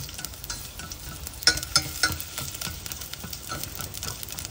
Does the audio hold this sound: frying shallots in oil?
yes